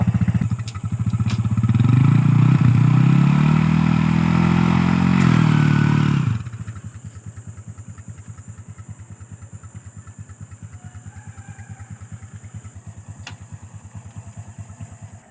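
A motorcycle engine revs loudly and steadily for about six seconds while its exhaust is checked for smoke, then drops back to a quieter, rapid idle that chugs on to the end.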